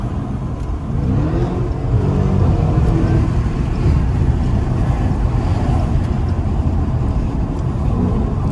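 A Dodge Scat Pack V8 roars through late-night traffic, a loud, sustained low-pitched engine drone with wind rushing over the microphone, steady throughout with no talking.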